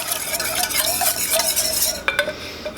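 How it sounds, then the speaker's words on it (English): Honey and bourbon-barrel-aged maple syrup being mixed for a honey ginger pork chop marinade, heard as a close, busy clatter of a utensil stirring against a bowl, continuous and fairly loud with a sharper knock near the end. "I'm going to give that a good mix"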